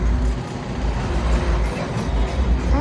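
Steady, loud road traffic with buses and cars rumbles continuously nearby on a smoky morning street in Vellore, a dense low engine drone with no breaks.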